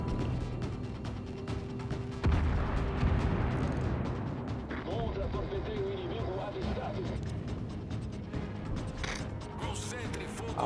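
Naval guns boom and shells crash in World of Warships, a heavy blast followed by rumbling impacts and mechanical creaks, with someone talking over the battle noise.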